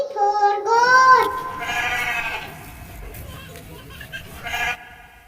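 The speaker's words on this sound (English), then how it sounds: "G for goat." Goat bleating in repeated wavering, nasal cries, loud and close at the start and fading into fainter calls, with a noisy background underneath.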